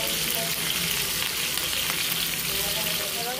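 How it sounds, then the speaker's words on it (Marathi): Fish sizzling and frying crisp in a pan over a high gas flame, a steady loud crackle of hot oil throughout with no speech. "थोडी फास्ट गॅसवरती मच्छी शेकून घ्यायची। छान एक साईड क्रिस्पी करून घ्यायची।"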